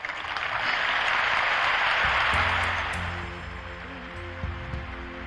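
An audience applauding a temple announcement for Tokyo, Japan: dense, sustained clapping that swells over the first two seconds and then fades, with a few scattered voices and murmurs as it dies away.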